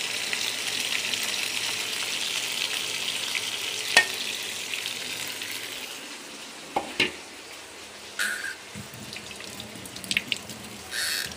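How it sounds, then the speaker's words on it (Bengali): Soft frying sizzle of potatoes with grass carp fish roe in a home kitchen, a quiet steady hiss with a few clinks and stirring knocks near the end. "সো এটা দিয়ে আজকে আলু ভাজিটা করব"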